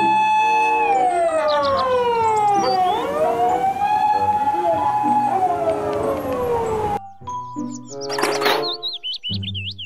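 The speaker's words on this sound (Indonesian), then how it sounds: "Mobil ambulans." A toy ambulance's electronic siren sweeps up and down in a loud continuous wail for several seconds, then gives way to shorter chirping toy tones.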